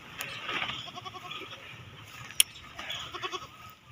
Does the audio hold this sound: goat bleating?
yes